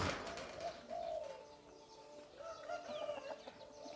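Soft, repeated cooing of a dove rises and falls in low mellow phrases, with faint chirps and other bird calls in the background.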